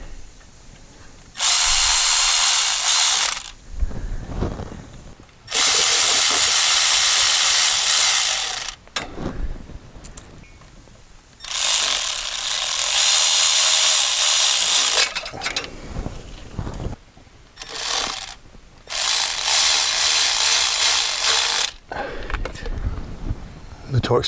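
Power ratchet driving transmission pan bolts into a VW Touareg, several loud bursts of whirring separated by short pauses, close up.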